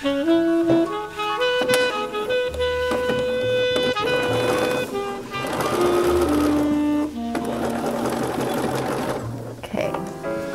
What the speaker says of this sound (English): So I'm going to go ahead and sew a tag on.